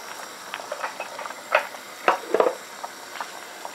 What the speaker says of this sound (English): I'm gonna let this boil for a further 15 minutes and then I'll come back.